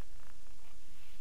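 A cat purring in the video game Minecraft, a steady, close, low rumbling purr that runs unbroken for a second or so with no speech over it.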